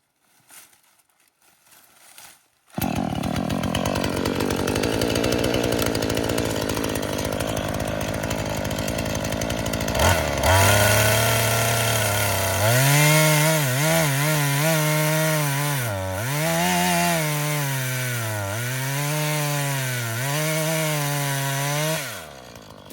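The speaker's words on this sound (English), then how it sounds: "A chainsaw is meant to run, okay? Go ahead and get it started up again." A Husqvarna 440 chainsaw starts up and runs loudly and steadily, its pitch rising and dipping as it bites into wood, with no voices.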